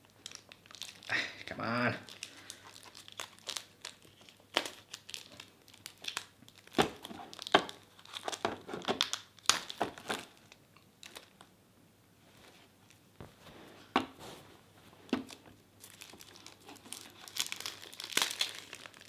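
Plastic shrink wrap crinkles and tears as it is peeled off a Resident Evil 2 board game box, busy rustling bursts throughout with a person talking briefly over it.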